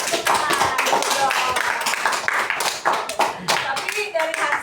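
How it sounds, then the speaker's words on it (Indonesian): Applause in a classroom during a mathematics teaching practice session, dense rapid clapping from many hands filling the whole stretch, with voices talking over it. "Tepuk tangan semuanya betul?"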